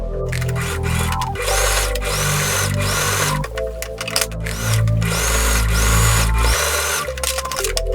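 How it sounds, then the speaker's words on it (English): A sewing machine top stitches a T-shirt seam on both sides, its motor whirring loudly and close in several continuous runs with short pauses between them, no talking. "then you give it a fine top stitch on both sides."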